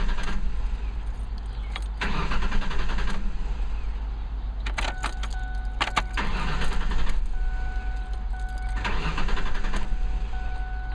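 A 2005 Ford Ranger, freshly fitted with a new fuel filter, cranks in three or four separate bursts of a few seconds each. The starter churns loudly over a constant low hum, and the engine never catches.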